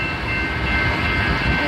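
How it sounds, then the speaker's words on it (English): A Norfolk Southern freight train passes close by with a loud, steady rumbling roar of rolling cars, continuous and with no voices. "Big Norfolk Southern train here."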